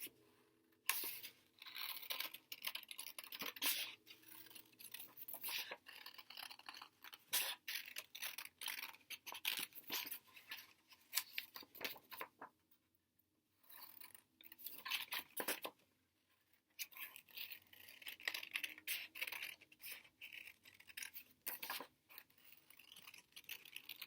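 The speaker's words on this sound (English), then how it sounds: "Okay, now I'm ready to cut this one out." Paper being cut out for a handmade lantern collage, a steady run of close, crisp scissor snips with brief pauses between cuts, alone without talk.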